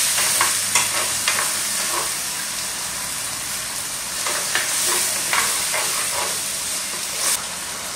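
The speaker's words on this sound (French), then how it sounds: "Maintenant, je vais mettre un peu d'huile et puis on va venir bien cuire ceci." Chicken with mustard and spices cooks in hot oil with a loud, close, continuous sizzle and hiss, broken by occasional stirring scrapes and bursts, with no voices.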